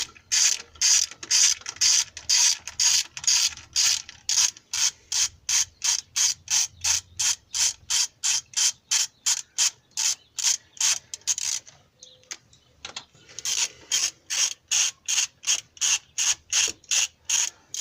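A torque wrench ratchets rapidly on the cylinder head bolts of a 2005 Nissan Sentra 2.5L, dozens of loud, evenly spaced clicks with a brief pause before the clicking resumes.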